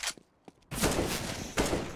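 Short burst of rapid gunfire in a competitive first-person shooter match, sharp and loud after a brief quiet opening with a few faint clicks, sustained fire then a second strong burst near the end.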